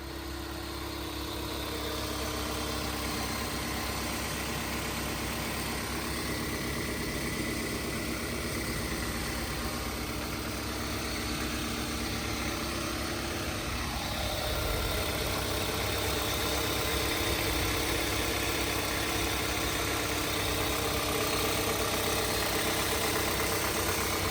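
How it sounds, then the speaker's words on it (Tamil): A 2006 Toyota Corolla automatic petrol engine idling steadily up close, a constant low rumble and hum with slight shifts in tone, no voices. "இப்போ வண்டியோட இன்ஜின் சவுண்டு எப்படி இருக்குன்றதை நம்மளோட கேமராவை இன்செர்ட் பண்ணி வண்டியோட இன்ஜின் சவுண்டை நான் காட்டுறேன்"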